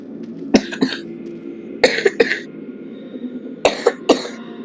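Several sharp coughs in short pairs, close and fairly loud, spaced by brief pauses with a faint steady hum underneath.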